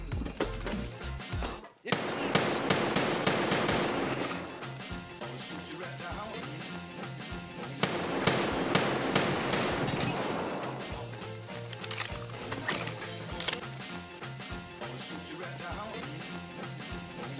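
Gunfire in Escape from Tarkov: dense bursts of rapid automatic shots with heavy thumps, loud at first, fading, then rising again in a second barrage, with scattered single shots and a voice talking underneath.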